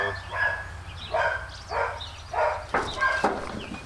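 A dog barks repeatedly at a steady rhythm, about seven sharp barks at moderate distance over a low background hum.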